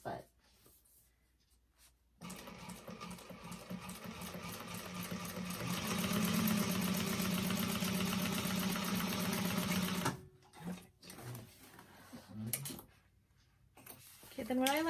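A sewing machine stitches a rounded tote bag seam slowly around the corners in a steady, loud, continuous run of about eight seconds, with quieter handling and bits of talk before and after.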